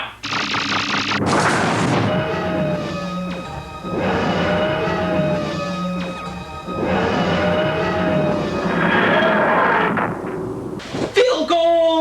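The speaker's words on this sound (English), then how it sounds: "Professor, it's firing!" A cartoon sci-fi defense shield fires in long, rapid machine-gun-like bursts, loud and close, each volley running a couple of seconds with brief pauses between them.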